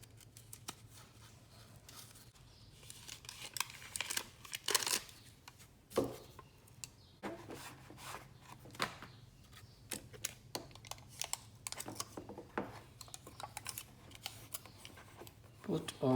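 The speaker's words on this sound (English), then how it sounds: "Now you can see I put this aluminium tape here." A piece of aluminium tape is handled while being placed over a crack. Faint, close crinkles, taps and papery rustles come in irregular bursts over a quiet background hum.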